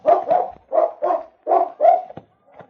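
King, a dog in a radio drama, barks in a quick run of about six loud, close woofs in uneven pairs, with a small trailing yip at the end and no voices.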